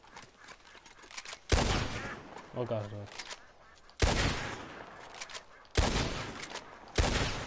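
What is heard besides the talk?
gunshots while duck shooting in video game Red Dead Redemption 2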